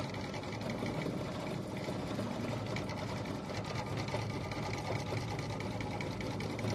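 Altair 2 sewing and embroidery machine running, a steady mechanical whir with a fast, even rattle that continues unbroken at moderate loudness.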